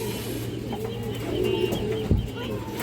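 Pigeons coo in low, rolling calls close by, a steady soft murmur with a brief louder thump, under a faint background hum.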